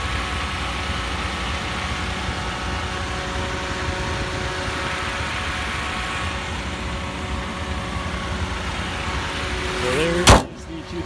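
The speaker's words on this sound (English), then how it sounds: "Toyota runs nice and smooth, 4-cylinder." A 2008 Toyota Corolla Matrix with a 4-cylinder engine and timing chain idles steadily and smoothly nearby, a low even hum for about ten seconds, ending with a short loud clunk like a door shutting.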